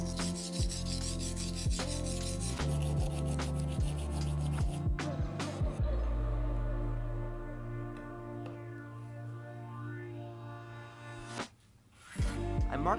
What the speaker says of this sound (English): To sharpen the cutter, I ground an edge along its length on an abrasive sharpening stone.